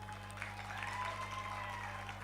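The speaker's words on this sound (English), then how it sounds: "Keep clapping." An audience claps at a 10th anniversary celebration event in Uganda, steady faint applause heard at a distance over a constant low electrical hum.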